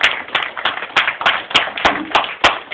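An audience claps at a mushaira, an Urdu poetry gathering, in steady rhythmic unison beats that are loud and close, with no voices over them.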